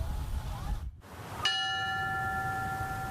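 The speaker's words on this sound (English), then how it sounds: "The bell rang 5 times" A single memorial bell strike for fallen firefighters rings out clearly after a brief pause, its tone hanging and slowly decaying over low background noise.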